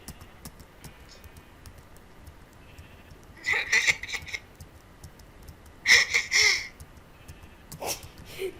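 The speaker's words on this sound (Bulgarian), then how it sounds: "Овце." Sheep in the video game Minecraft bleat twice in short, wavering bursts a couple of seconds apart, standing out over a quiet background with faint clicks.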